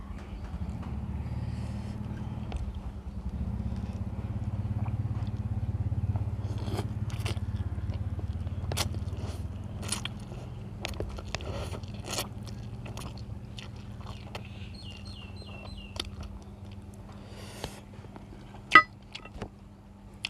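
Crunchy pork rinds are eaten alongside spicy Korean instant noodles, with close, loud biting and chewing and scattered sharp crunches over about twenty seconds, with little or no talk.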